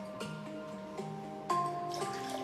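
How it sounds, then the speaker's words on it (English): A drink is poured into a glass indoors: a steady, close liquid trickle with a few small clinks and drips, rising briefly toward the end. "Gotta pour myself a little something to drink here."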